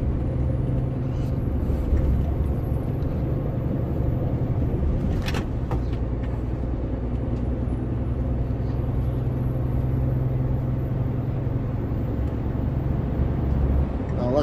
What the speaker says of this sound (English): Ide gas na maks.